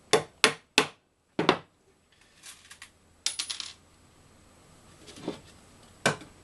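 A hammer tacks the wooden parts of a flat-pack beehive roof together: a run of sharp, close, ringing knocks, several in quick succession, then scattered single taps separated by quiet gaps.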